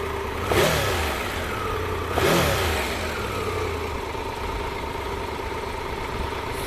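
Triumph Tiger 1200 GT Pro motorcycle engine cranking and firing up, with two sharp revs near the start and a steady idle rumbling on afterward, close by with no talk.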